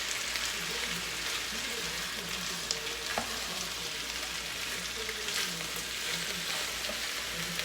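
Cubed steak pieces sizzling and crackling in a hot pan, a steady close frying hiss with occasional pops and light stirring scrapes, no voices.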